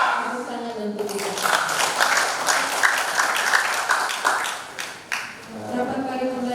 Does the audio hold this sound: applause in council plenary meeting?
yes